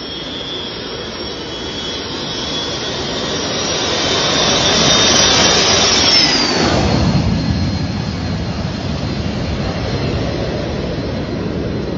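A jet airplane passes overhead in a forested area, its engine roar swelling to a loud peak and then fading into a broad, steady rumble as it moves away.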